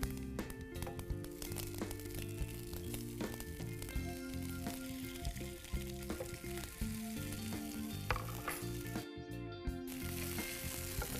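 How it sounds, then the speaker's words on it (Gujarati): Mustard and sesame seeds crackle and sizzle in hot oil with muthia, a dense continuous frying hiss broken by sharp pops and the scrape of stirring, close and alone. "રાઈ ફૂટી ગઈ છે હવે આપણે એક નાની ચમચી તલ એડ કરશું હા તલ પણ થોડા તતડી જાય"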